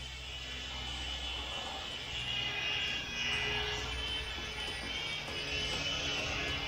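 A small CZ02 Black Ant RC helicopter flies nearby, its spinning rotors and motor giving a faint, steady whirring hum.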